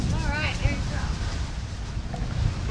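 Wind rushing past a sailboat under way on the Sea of Cortez, a steady close buffeting roar across the microphone, with a voice briefly calling out over it.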